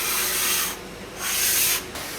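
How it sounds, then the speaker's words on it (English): Sandpaper on a hard block rubbing along the side edges of a ukulele, heard as two close, loud strokes of raspy scraping separated by a short pause, with no talk. "You can clean up your edges with sandpaper and a hard block"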